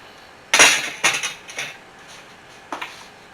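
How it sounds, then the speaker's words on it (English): Pork chops dropped into a pot of simmering pork chop soup, a sharp clattering splash followed by two softer thuds and a later clink, close and alone. "Now we're going to plop our pork chops right down in there."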